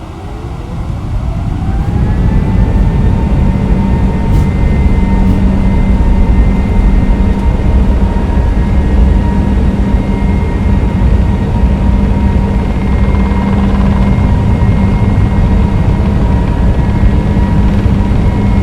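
Airbus A321neo engines spooling up for a takeoff roll in Microsoft Flight Simulator 2024, a loud, steady turbofan roar with a rising whine that settles into a sustained drone.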